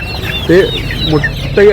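Chickens at the poultry market in Kottakkal cluck in short, loud, close bursts, three distinct calls over a steady background of market noise.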